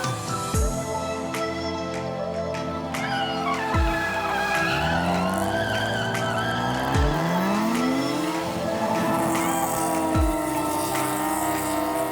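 A Nissan 350Z engine revs and wails repeatedly as tires screech through long drifting slides, loud and continuous with no talking.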